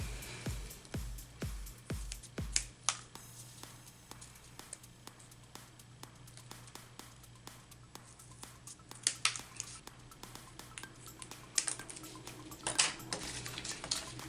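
Scissors cutting scraps of paper-covered cardboard, heard as a series of crisp snips and clicks, rapid at first and then sparser, over faint background hum.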